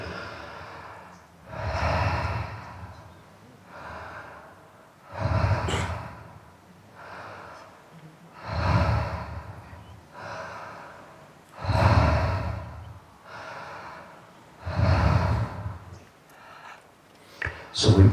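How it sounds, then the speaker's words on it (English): Deep connected breathing during a biodynamic breathwork session, long loud breaths repeating in a slow regular rhythm about every three seconds, close to the microphone and with no talk over them. "deep connected breathing."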